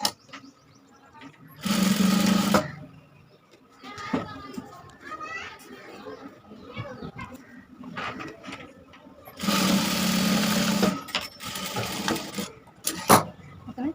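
A sewing machine stitches a blouse in two short loud bursts, separated by quieter handling noises, with speech and children's voices in the background.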